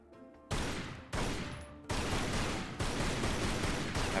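Gunfire in the video game Tomb Raider: Anniversary: several loud bursts of shots in quick succession, each cutting in sharply and sustaining briefly before the next, close and dominant with no talk.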